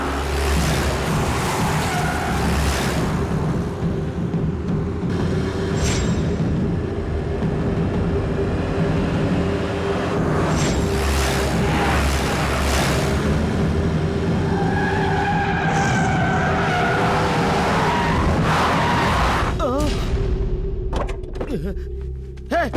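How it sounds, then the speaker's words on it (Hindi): A car in an action movie scene swings around and skids, with sustained engine roar, tire screeches and thumps under a busy, loud soundtrack. "दुर्गा, गाड़ी घुमा, गाड़ी घुमा, गाड़ी घुमा जल्दी से।"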